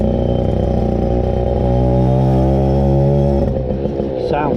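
A Yamaha YB1 motorcycle, an FS1-E look-alike with a rotary gearbox, runs loud and close, a buzzing two-stroke idle that steps up in pitch partway through and then revs unevenly near the end.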